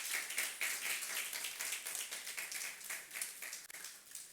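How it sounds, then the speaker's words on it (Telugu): A church congregation at a Good Friday live worship service claps loudly together, a fast, busy wash of hand claps with no pause, fairly distant and dipping slightly near the end. "వింటామని వాళ్ళు గట్టిగా చప్పట్లు కొట్టండి"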